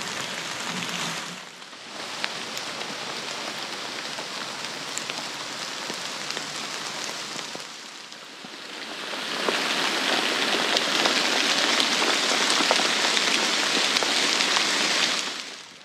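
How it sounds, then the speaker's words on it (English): Steady rain falls through the woods of a Florida wilderness park. The dense hiss is continuous, briefly dips near the middle, then swells louder and fuller for the rest of the stretch, with no voices. "Embrace the rain and the storm."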